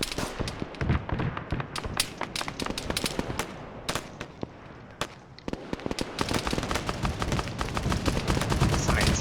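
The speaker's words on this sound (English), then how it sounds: "Here's a Tigris firing at their position." Rapid bursts of 30mm autocannon fire from a Tigris anti-air vehicle in the military game Arma 3, a dense, loud string of sharp reports and booming impacts with a brief lull midway before the barrage intensifies again.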